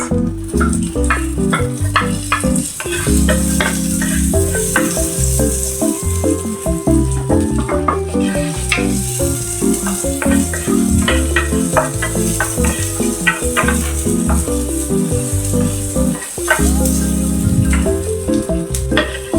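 Onion sautés in a pan with a continuous loud sizzle over rhythmic, tonal background music and faint clinks of a utensil throughout.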